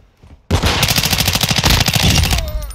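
Call of Duty Modern Warfare 2 multiplayer gunfire: a loud, sustained burst of rapid automatic shots starting abruptly and rattling on for about two seconds, close and dominant.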